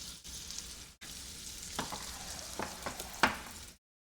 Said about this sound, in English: I'm trying to get a little bit of a sear here